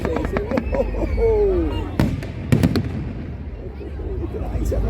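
Fireworks at the Blackpool World Fireworks Championship 2023 during India's display: loud bursts and crackling booms, with sharp bangs clustered in the middle, amid excited crowd voices and exclamations.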